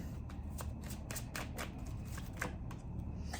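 A tarot deck is shuffled by hand in quick, close riffling bursts, soft and papery, in a quiet room with no talking.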